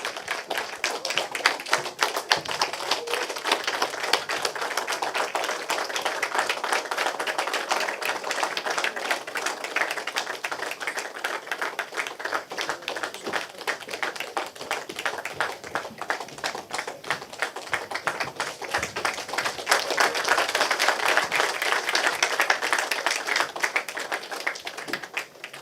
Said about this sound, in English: With a huge round of applause, can we please welcome Mr.